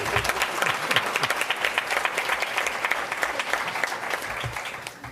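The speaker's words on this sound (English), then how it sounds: "Applause now." Audience applause at a school board meeting, a dense steady burst of many hands clapping that holds for about five seconds before easing off slightly at the end, with no talk over it.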